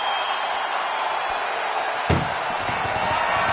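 A single heavy slam of an ambulance door shutting in the WWE 2K24 wrestling video game, one sharp thud rising over constant loud arena crowd noise.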